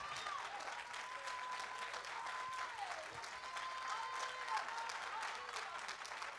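A church congregation claps their hands together in a dense, steady rhythm for the whole stretch, with a faint sustained voice or tone running underneath.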